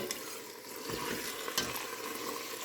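A spoon scrapes the bottom of a pot while beef broth is stirred into an Italian sausage stuffed pepper soup. The scraping is faint and irregular over a low simmering hiss.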